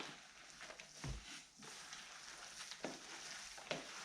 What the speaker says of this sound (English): let's get our hands in there and mix it all in